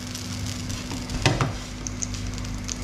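Food sizzles steadily in a pan on the stove, a soft continuous crackle with a couple of brief louder clatters partway through.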